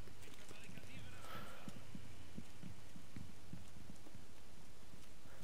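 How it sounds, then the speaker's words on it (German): A heartbeat sensor in Rainbow Six Siege pulses with low, regular thumps, steady and fairly close, over a constant hum and scattered in-game noise. "wenn man einen Sensor hat, der Herzschläge anzeigen kann"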